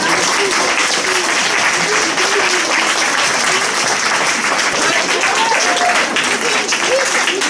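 Sustained applause from a crowd fills the whole stretch, a dense steady clatter of clapping with some voices mixed in.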